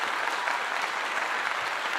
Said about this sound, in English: I'll give you all a clap.